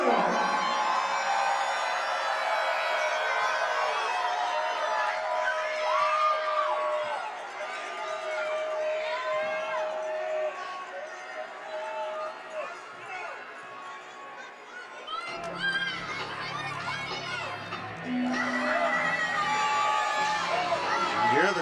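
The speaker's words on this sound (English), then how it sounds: "You hear the crowd behind us booing." An indoor soccer crowd in Cleveland roars with mixed shouts and long jeering calls that swell and fade, loud and close-packed, with a commentator talking over the noise throughout.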